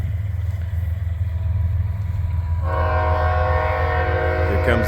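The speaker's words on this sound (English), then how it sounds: "Here comes the train." A train passes a hay pasture split by the railroad tracks, a loud low rumble of rolling cars building steadily, then a strong sustained horn blast sounding close by for the last couple of seconds.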